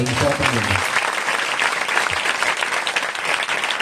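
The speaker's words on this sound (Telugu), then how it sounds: "చప్పట్లు కొట్టసారి." A church congregation applauds at a Telugu Christian sermon, a dense, loud burst of clapping from many hands close by, with a brief voice at the very start.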